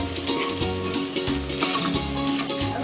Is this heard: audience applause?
no